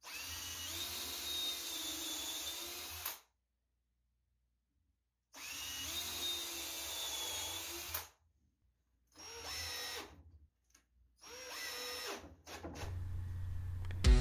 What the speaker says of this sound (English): At this stage of the game, I'm pre-drilling my holes here to hold the rest of my framework together.